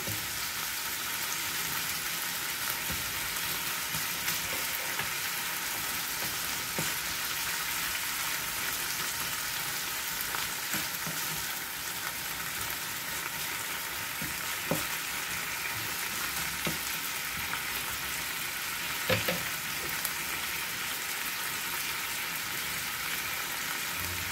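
Tofu in a sweetened sauce sizzling and frying in a pan while being stirred, a steady close crackle with occasional soft scrapes and taps of the utensil.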